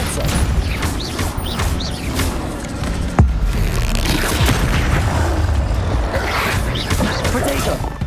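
A Depulsor spell strikes during Hogwarts Legacy combat. A dense, loud wash of booming impacts and clattering effects runs throughout, with one sharp crack near the middle.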